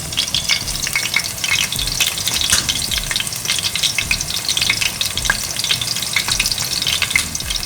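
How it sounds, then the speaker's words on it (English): Salmon fillet pan-frying in hot oil for a pesto salmon dish, giving a steady, dense sizzle with scattered crackling pops throughout, close and fairly loud with no talking. "we're going to let this cook for a couple of minutes, just until we get the one side fried up really good"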